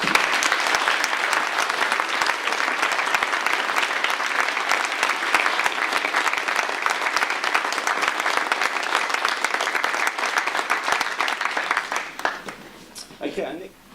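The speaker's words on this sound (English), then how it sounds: "Round of applause, please." Audience applause at a school certificate of achievement ceremony, a full, steady round of clapping that lasts about twelve seconds before tapering off, with a voice briefly speaking as it fades.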